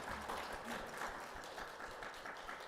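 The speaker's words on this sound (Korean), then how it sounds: "우리 앉으신 채로 박수로 환영하겠습니다" A seated church congregation claps in welcome for returning elders during a Sunday worship service, a steady, soft wash of many hands that holds at an even level throughout.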